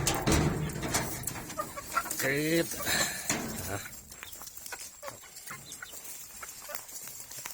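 Chickens cluck and squawk nearby, with a drawn-out call rising above the flock amid rustling and scattered pecking sounds.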